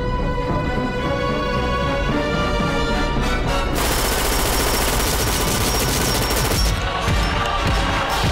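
Cartoon gunfire from Family Guy bursts out in rapid, loud volleys that blend into a dense, crashing roar, with a musical score running underneath throughout.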